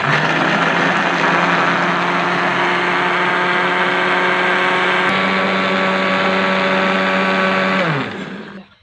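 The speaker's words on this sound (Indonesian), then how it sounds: "Sekarang kita blender." Sweet corn and water whirring in an electric blender, a loud, steady motor drone that holds for about eight seconds before winding down to a stop, with no talking.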